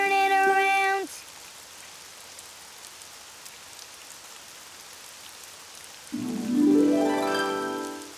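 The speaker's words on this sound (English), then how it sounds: "Oh, it's raining outside." Steady rain patters softly throughout an episode of the cartoon Daniel Tiger, with tonal musical sounds at the start and again toward the end.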